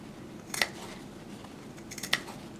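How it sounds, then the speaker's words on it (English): Two sharp scissor snips cut into a sewn fabric seam while sewing inset pieces for a purse, each a brief crisp close click spaced over a second apart, with quiet room tone between and no talk. "we want to snip into the seam to relax this seam"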